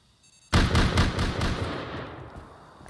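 An automated turret in Rust opens fire: a sudden rapid burst of six or seven loud, close shots in quick succession, followed by a long rumbling echo that fades away.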